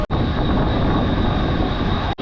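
A train rumbles past at a railway station, loud and continuous, with a broad steady roar that cuts off abruptly at both ends.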